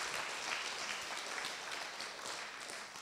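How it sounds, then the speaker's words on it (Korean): An audience at a church worship and testimony gathering applauds, a steady wash of many hands clapping, soft and somewhat distant, holding evenly throughout. "박수 한번 해주십시오"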